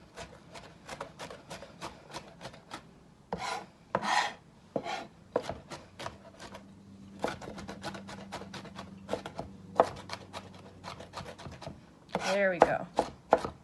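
A knife chops vegetables for veggie tater tots on a cutting board, giving rapid, crisp, close taps in bursts with a few scraping pivot strokes. A voice briefly speaks partway through.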